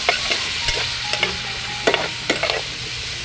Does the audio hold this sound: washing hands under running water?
no